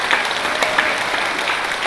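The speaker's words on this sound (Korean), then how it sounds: "우리 어머님께 승리를 기원하는 간절한 박수 한번 보내주시면 좋겠습니다" A church congregation gives a short burst of steady, dense applause that fills the hall at an even level throughout.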